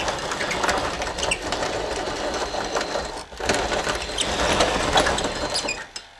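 A 1:14 scale RC CAT D6 dozer with a ripper chugs steadily on its small diesel engine, a busy, rattling mechanical clatter heard close up that dips briefly midway and then fades near the end.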